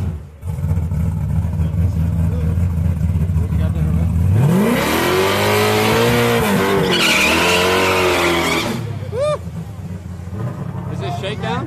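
A drag race car makes a shakedown pass at a Houston test-and-tune session, its loud engine revving and rising in pitch as it launches and pulls away. Crowd chatter and voices are heard over the engine.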